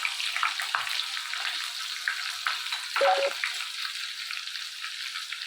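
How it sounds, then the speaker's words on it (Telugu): Ginger garlic paste frying in hot oil, a close, steady crackling sizzle with small pops and occasional stirring scrapes throughout, no voices. "ఇది కొంచెం ఫ్రై అవ్వాలి, పచ్చివాసన పోయేంత వరకు ఫ్రై చేసుకున్నాం"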